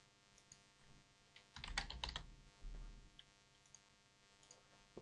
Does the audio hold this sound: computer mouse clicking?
yes